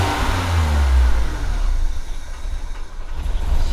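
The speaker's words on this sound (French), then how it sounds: "Regarde, là j'accélère." Turbocharged 316 car engine accelerating with a loud, deep, close rumble that rises and then settles into a steady drone.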